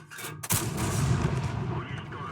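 A tank cannon fires in World of Tanks: one loud, sharp blast at about half a second, booming low and close, then a long rumbling tail that carries on to the end with no speech.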